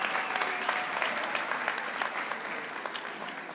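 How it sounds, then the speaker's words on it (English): Sustained applause from a crowd at a university graduation ceremony, dense steady clapping that fills the room and tapers slightly near the end. "big applause to all of you"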